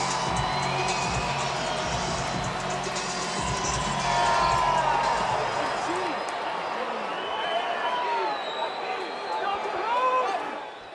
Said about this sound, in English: a thunderous hand from the crowd as he's announced as the pinch hitter